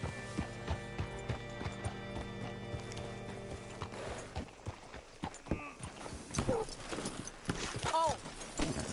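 Horse hooves clip-clop in rhythmic steps in Red Dead Redemption 2, steady at first then slowing and scattering, with a low hum beneath and voices talking and a brief horse snort near the end.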